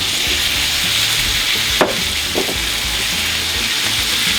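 Vegan salmon goes into a hot pan with green beans and lemon, setting off a steady, loud sizzle, with a brief clack of the pieces landing partway through.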